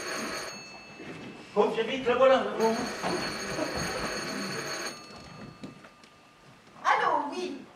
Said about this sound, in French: c'est pas possible, ce téléphone